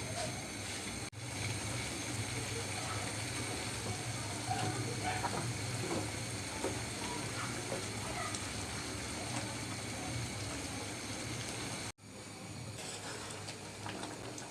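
A little water poured into a mixer jar to rinse ground spices, making a steady close rush of running, splashing water that cuts out briefly near the start and again toward the end.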